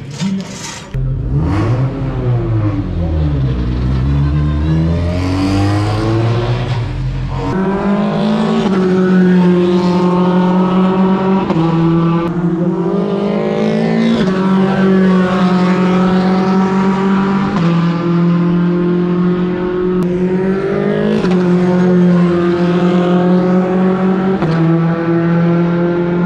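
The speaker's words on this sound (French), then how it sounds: "Il s'agit d'une Formule 4 homologuée par la FIA" FIA-homologated Formula 4 race cars screaming through the gears at a French circuit near Nevers Magny-Cours, loud high-revving engines rising and falling with repeated upshifts and downshifts, sustained and close throughout.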